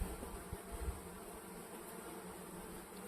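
A honey bee buzzes close to a beekeeper's veiled face, a steady, faint droning hum with slight fluctuations and a few soft bumps, no talking.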